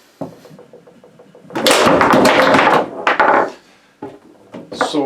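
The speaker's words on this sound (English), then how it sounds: "You're hitting the bumper multiple times after you shoot it." A billiards or pool bumper is struck repeatedly while recoiling, giving a series of loud woody knocks and thuds in bursts, close and without speech.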